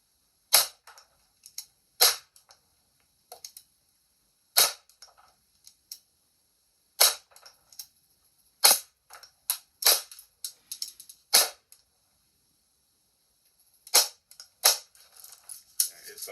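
Airgun shots fired at a can in a cut-the-can challenge, sharp snapping cracks arriving in irregular bursts with short gaps, some spaced singly and others in quick clusters, with faint scattered clicks between.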